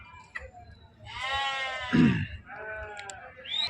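Several sheep bleat loudly and nearby at the Gudur sheep market, long wavering calls overlapping, with a lower grunting bleat in the middle and faint background noise.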